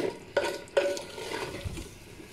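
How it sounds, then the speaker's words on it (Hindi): Goat trotters for Lahori mutton paya are stirred and fried in oil in a pot, with two sharp spoon scrapes up front followed by a soft, steady sizzle. "8 से 10 मिनट हो गए हैं पायों को भूनते हुए।"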